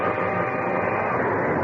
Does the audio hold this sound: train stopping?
yes